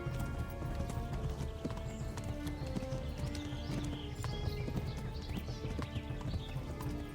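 A horse gallops in Kingdom Come: Deliverance during the Talmberg horse race. Its hoofbeats clip-clop steadily and close throughout, with a brief whinny and no talking.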